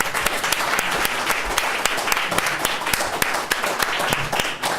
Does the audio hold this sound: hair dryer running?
no